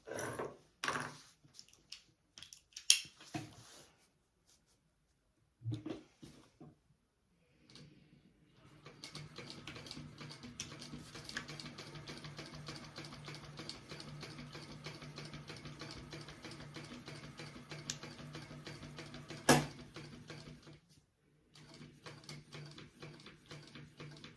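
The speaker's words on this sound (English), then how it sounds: "I'm going to stay within the flap right here, and I'm going to just sew a line across." Sewing machine stitching a line across a fabric flap on a sling, a few short starts at first, then a steady continuous mechanical run of about twelve seconds, a brief pause with a sharp click, and a final short burst, with no talk.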